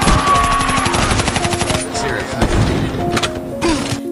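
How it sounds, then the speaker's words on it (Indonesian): A film gunfight and brawl brings loud, rapid overlapping gunshots and bursts of fire, with a narrator's voice running over the whole stretch. "terjadilah baku hantam dan baku tembak di antara mereka"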